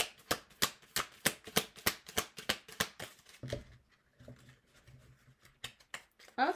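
A deck of tarot cards being handled and cut, a fast run of about a dozen crisp, close card snaps and riffles, then quieter shuffling and a few more sharp flicks near the end, with no talking.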